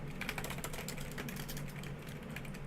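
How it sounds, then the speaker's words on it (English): Quiet, rapid tapping on a computer keyboard at a desk during solo calculus study, with soft, uneven clusters of key clicks close by. "I guess I'll just type it out."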